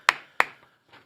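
Two sharp, close hand claps sound about a third of a second apart, followed by a faint softer third tap, in a quiet indoor talk-show studio.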